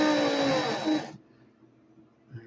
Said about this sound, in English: make sure my drill's in reverse